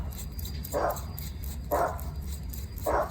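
A dog barks three times at evenly spaced intervals, fairly distant and muffled, over a steady background hum, with no talking.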